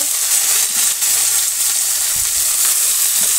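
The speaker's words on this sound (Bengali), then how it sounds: "তেলটা আমার গরম হয়ে গেছে, আর উচ্ছেগুলো দিয়ে দেবো।" Bitter gourd pieces frying in hot oil in a village kitchen: a bright, continuous hissing sizzle at close range with faint scraping underneath, no voices.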